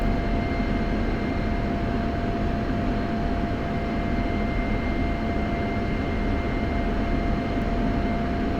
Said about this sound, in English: Max taxi speed in F-16 is about 30 knots, but be sure to slow down to about 10 knots for turns